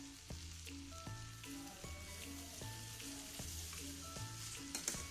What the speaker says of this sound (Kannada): ನೋಡಿ, ಬೇಯಿಸಿಟ್ಕೊಂಡಿರೋ ಶಾವಿಗೆನ ಹಾಕ್ತಾಯಿದ್ದೀನಿ.